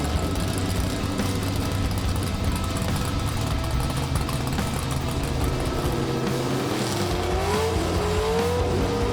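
Gasser drag race cars run down a racetrack, a loud continuous engine roar with rising revs and a whining pitch sweep late on, close and unbroken, with no talk over it.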